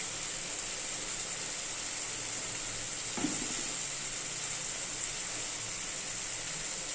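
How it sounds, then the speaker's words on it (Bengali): Masala of salt, ginger, garlic and turmeric frying in a pan: a steady, faint hiss of sizzling with one small clatter near the middle, with no speech. "এই মশলা কষাচ্ছি"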